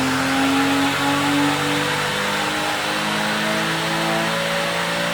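A 2004 anniversary car fitted with a 3.8 engine revs while strapped to an in-ground dyno in a shop, a loud, sustained engine drone with shifting tones and no talk.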